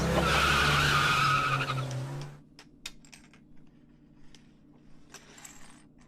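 A car driven fast in a movie scene: a loud engine roar with a tire skid dies away after about two seconds, then fades into a quiet interior with faint clicks and mechanical ticks.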